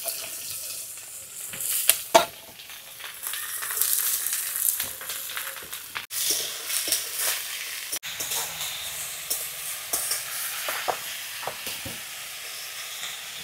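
Cumin, dried chili, chopped onion and diced potato hitting hot oil in a pan, a loud crackling sizzle with sharp spits and occasional stirring clatter, sustained and close, with no talking.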